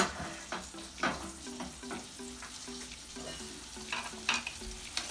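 Lamb chops fry in a pan with a soft, low-level sizzle, broken by faint repeated clicks and stirring taps, and nobody speaks.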